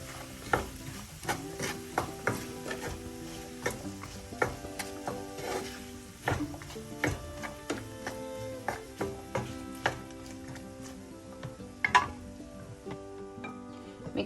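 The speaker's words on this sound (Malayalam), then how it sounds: "എല്ലാം കൂടെ ഒന്ന് മിക്സ് ചെയ്ത്" Snake gourd thoran mixture stirred in a pan, a steady run of close scraping and tapping strokes against the pan over a faint sizzle, no talking.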